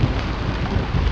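Heavy rain pouring down continuously in a thunderstorm outside a shopping parking lot, a loud, dense wash of noise with deep rumbling underneath, brief and unbroken.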